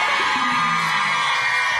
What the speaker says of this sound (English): Sisters, can I get a scream?